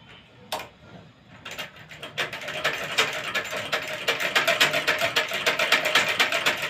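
A sewing machine runs in rapid, even stitching bursts at home, starting with a few isolated clicks, then building into a steady, loud mechanical chatter close by.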